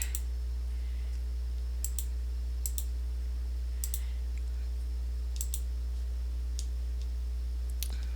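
Computer mouse clicks sound while working in Photoshop, a few sharp, light taps spaced irregularly over a steady low electrical hum, close and quiet.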